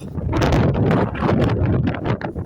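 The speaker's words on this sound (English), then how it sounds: "Apologies, it is very windy, I'm talking loud" Strong, steady wind buffeting the microphone, a loud broadband roar with rumbling gusts that continue without pause.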